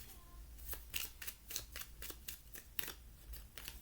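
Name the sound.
handling and drawing oracle cards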